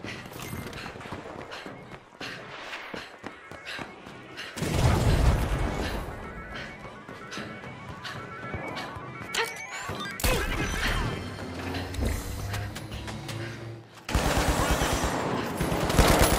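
A frag grenade explodes in The Finals during a busy match, with a loud burst around five seconds and another heavy blast near fourteen seconds. Gunfire, crashes and clattering battle noise fill the mix throughout, with no talk.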